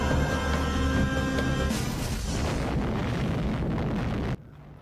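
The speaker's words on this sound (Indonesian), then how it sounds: "Amerika menjatuhkan bom atom di Hiroshima." An atomic bomb explosion effect: a loud, sustained rumbling blast that roars and churns for several seconds, then cuts off abruptly into near silence.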